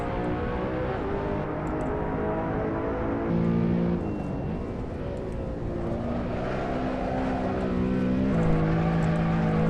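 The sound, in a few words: BMW M3 engine driving in Assetto Corsa video game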